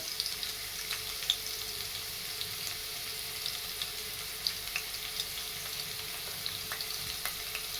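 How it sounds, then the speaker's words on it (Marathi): Garlic fries in hot oil for a Marathi green amaranth (math) vegetable dish, giving a soft, continuous sizzle dotted with scattered small crackles and pops throughout. "आता आपलं तेल गरम झालंय आपण लसूण टाकून घ्यावा"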